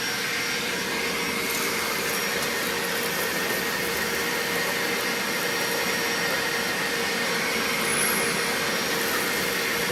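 A BAUER 3-gallon, 3 peak HP wet/dry shop vacuum runs continuously at close range, its loud, steady motor roar and rushing airflow whine holding unchanged for the whole stretch, with no voices.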